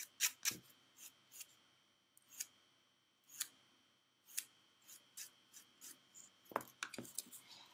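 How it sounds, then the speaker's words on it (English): Short scraping rasps of a nail file taking excess product off a manicured nail, repeated in an irregular series of brief strokes, close and fairly quiet with near silence between them. "Take off my excess again with my file."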